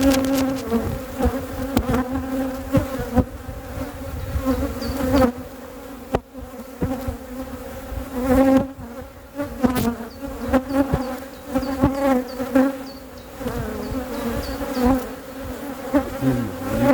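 Honey bees buzz loudly and continuously at an open beehive during a check of the frames and cells, a dense close drone with individual bees whining past.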